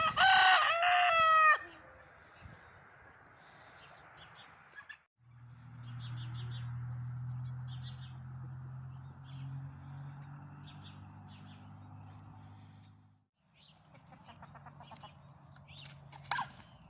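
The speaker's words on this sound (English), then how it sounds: "the rooster there on the left, the little red football" A rooster crows loudly up close, followed by a long stretch of hens clucking and murmuring, with a low continuous hum and more clucks near the end.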